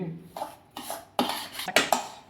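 A spoon scrapes and clinks against a pan as semolina roasts in ghee, in uneven bursts of stirring strokes that grow louder toward the end, with no voices.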